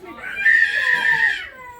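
A young girl screams and wails in protest at being made to get ready, a sustained high-pitched cry lasting over a second, close and loud, on an outing in Mussoorie.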